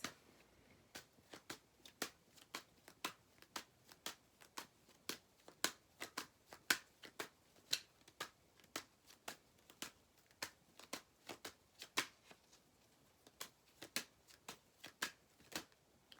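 Tarot cards being shuffled and drawn, a run of crisp, regular card flicks and snaps repeating steadily about twice a second, close and fairly quiet, with no talk.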